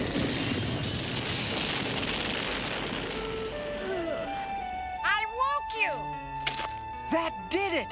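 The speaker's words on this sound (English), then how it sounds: "Pidge, for Pete's sake, ditch the grenade" A cartoon grenade explosion from a kids' animated adventure, a broad roaring burst that fades out over several seconds, followed by whistling tones and zany sound effects with voices over them.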